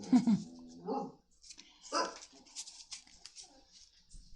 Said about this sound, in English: She's a very protective dog, which is nice.